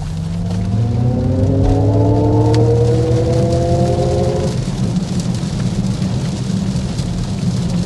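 Heavy rain drums steadily on a 2025 Cadillac OPTIQ crossover while it is driven, a dense loud wash over the low road and motor hum, with a rising electric whine during acceleration that fades after a few seconds.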